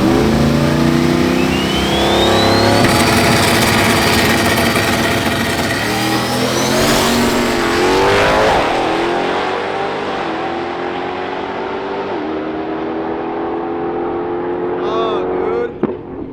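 A Dodge Demon 170 at a drag strip roaring hard as it launches into a rolling wheelie, its engine pitch climbing steadily then easing off, loud and close, with excited voices over it.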